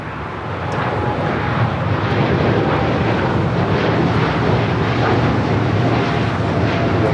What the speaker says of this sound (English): Flight heading back to Tokyo Narita, 787-9 Dreamliner